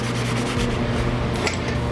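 A cloth wipes a forged damascus chef's knife blade clean with acetone: a short, close, dry rubbing swish with a brief scrape near the end.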